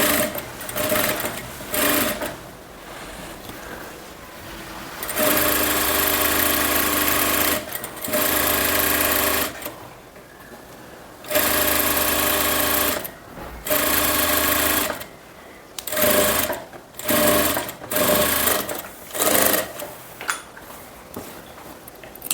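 Sewing machine stitching a kurti, running in loud bursts of rapid mechanical needle chatter separated by short pauses, close and alone, with faint handling clatter in the gaps.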